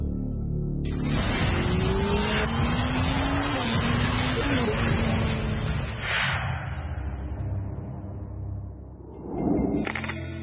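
An Ariel Atom, a stripped-down lightweight sports car, accelerates hard with a rising engine note through gear changes, and a sharp tire squeal breaks through before the engine bursts back near the end.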